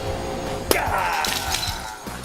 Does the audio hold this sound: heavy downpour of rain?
no